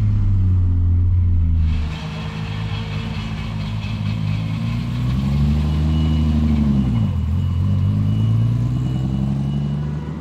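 A Nissan Skyline GT-R with an 800whp RB30 engine idles loudly up close, then pulls away with a deep rumbling drone that rises and falls as it revs through the drive, no talk over it.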